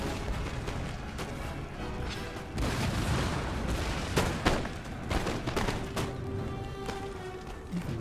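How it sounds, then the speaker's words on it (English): Mortar and artillery fire booms in an Empire Total War battle, with repeated irregular blasts and crackling gunfire volleys layered over a dense, continuous din of combat. "It must be these mortars doing the damage here then,"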